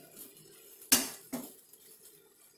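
A spoon stirs spices in a metal kadai for kadai paneer, giving two sharp metallic clinks close together over a quiet background.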